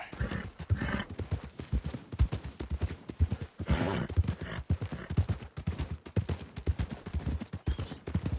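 Horse hooves clip-clop in a rapid, steady rhythm in Red Dead Redemption 2 gameplay, up close and fairly quiet, with occasional bursts of other game noise.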